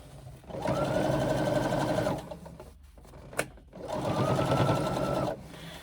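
A sewing machine stitches the seam of a swim bag in two steady, humming runs of about two seconds each, with a brief pause and a single click between them.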